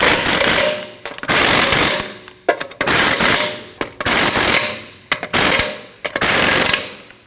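An impact wrench tightens lug nuts on a Nissan NV2500 front wheel. It fires six or seven loud, close rattling bursts of about a second each, separated by short pauses.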